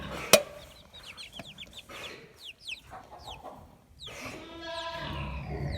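Little chicks and hens cheeping and clucking close by, a busy run of short chirps with a sharp knock near the start and scattered calls through to the end.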